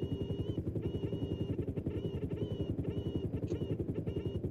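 A video game helicopter flies with a loud, steady, rapid rotor chop that pulses evenly throughout, with no other sounds over it.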